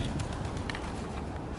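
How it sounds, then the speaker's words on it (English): Pigeons cooing on a wall in an outdoor square, soft repeated coos over a constant background wash of traffic and crowd noise. "So let's see how many pigeons we can get here."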